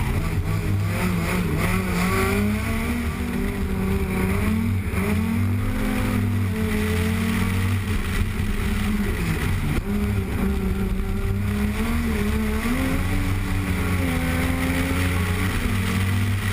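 A turbocharged Honda Civic on a hillclimb run at the Carlow Sprints 2012, its engine a loud, continuous close drone whose pitch rises and falls through the gears without a break.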